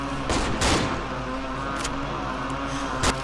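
Revolver shots ring out in the co-op horror video game Cry of Fear, several sharp bursts spread over a few seconds against a steady background hum.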